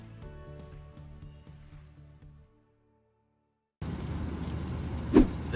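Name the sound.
Honda Jazz car, 16 years old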